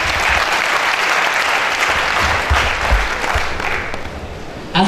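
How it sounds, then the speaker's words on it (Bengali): Loud, sustained applause from an audience at a grand achievers celebration, clapping steady and dense throughout before a fresh burst at the very end. "তার জন্য কি একটা জোরদার করতালি হওয়া উচিত না?"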